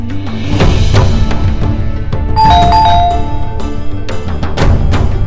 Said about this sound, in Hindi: अरे सुनो, घंटी बज रही है, देखो तो कौन है।